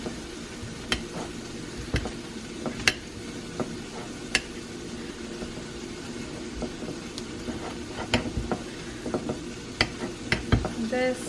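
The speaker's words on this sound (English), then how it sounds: "I'm just waiting for the onions to saute a little bit more" Onions frying for a broccoli and tofu stir fry, a continuous close sizzle with scattered spatula clicks and scrapes, turning busier and louder toward the end.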